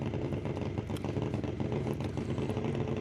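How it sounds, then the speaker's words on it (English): A drag racing car engine rumbles continuously at a distance at a drag strip test session, a rough, throaty drone with a pulsing, uneven idle. "Listen to Adam's engine down there"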